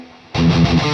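A distorted electric guitar chord through a BluGuitar AMP1 Iridium Edition amplifier rings out suddenly after near silence, sustaining with a spacious reverb wash.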